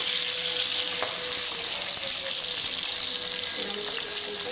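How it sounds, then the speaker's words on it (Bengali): Chicken pieces fry in a pan for chilli chicken, giving a steady, moderately loud sizzle and crackle with a few small pops. "সব মাংসগুলো এইভাবে ভেজে নিয়েছি"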